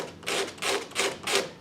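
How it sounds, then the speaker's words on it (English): A wooden piece for a wall art project is hand-sanded on its end, giving four rhythmic, close rasping strokes in steady back-and-forth succession. "I can use that to sand it"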